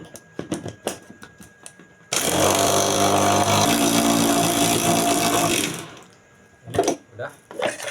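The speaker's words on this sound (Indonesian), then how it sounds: "chopper dan masukkan kacang hijau yang udah kita rebus" An electric food chopper blends boiled mung beans with sugar and a pinch of salt for a bakpia filling, giving a loud, close, steady whir that lasts about three and a half seconds, with small clatters before and after.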